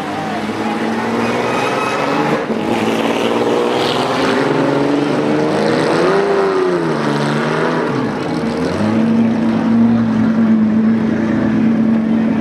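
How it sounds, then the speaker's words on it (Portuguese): A GT-category rally car at the Rally Vinho Madeira roars loudly and continuously, its engine note rising and falling through gear changes as it passes close by. "Mais um carro da categoria GT."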